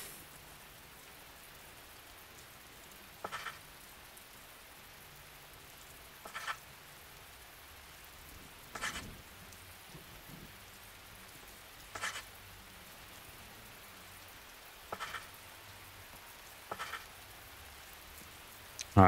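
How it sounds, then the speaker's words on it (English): Steady rain hisses evenly throughout, with a few brief louder splashy bursts at irregular intervals; no voices. Rain in the video game The Great War: Western Front. "It's raining."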